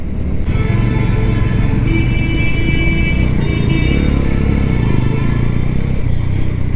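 Honda CB 125 Hornet motorcycle riding at night in Punjab, its engine droning loud and steady from up close, with wind and road noise mixed in and no talking.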